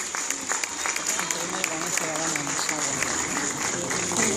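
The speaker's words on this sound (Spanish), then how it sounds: "Fuerte aplauso para Tomás" An audience at a Star Wars fan event in Argentina gives Tomás a round of applause, with brisk sustained clapping and scattered voices in the crowd from start to finish.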